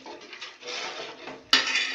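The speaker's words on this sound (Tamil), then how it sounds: "கிளறி விட்டுக்கோங்க" A spoon stirs meen kulambu, a Tamil fish curry with tamarind water, in a metal pot: soft scraping and clinks against the pot, then a louder clatter near the end.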